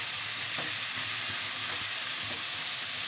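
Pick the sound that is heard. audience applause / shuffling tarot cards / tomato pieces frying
tomato pieces frying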